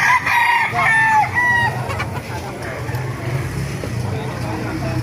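Several roosters crow over a busy background of clucking chickens and murmuring voices at a market, the crows loudest early on and fading after a couple of seconds.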